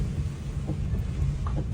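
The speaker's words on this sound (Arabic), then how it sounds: "الامطار هنا غزيره في سان باولو" Heavy rain falls while a car is driven through São Paulo, Brazil, heard as a dense low roar and rumble inside the vehicle, steady throughout with no voices.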